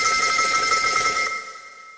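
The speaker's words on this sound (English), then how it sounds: "the thing that had awakened him had been the ringing of the telephone in the hall." A telephone in a hallway rings with a bright, repeated bell trill, loud and close, then cuts off and fades in a short decay.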